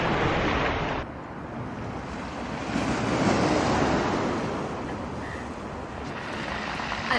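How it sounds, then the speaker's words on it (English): Sea waves wash continuously onto a pebble beach in Cornwall, a steady broadband roar of surf with gentle swells in loudness and some wind noise, no voices present. "You've got the sound of the sea as well."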